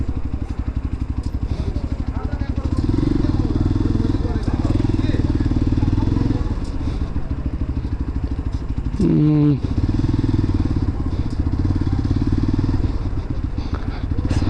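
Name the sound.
motorcycle riding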